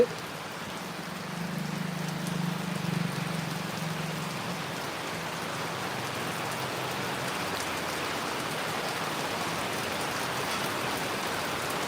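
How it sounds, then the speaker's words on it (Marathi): Heavy unseasonal rain pours nonstop in Virar, a dense, loud, even hiss of rainfall on surfaces that holds steady throughout, with a low hum fading out early on. "गेले वीस पंधरा ते वीस मिनिटं नॉनस्टॉप पाऊस पडतोय"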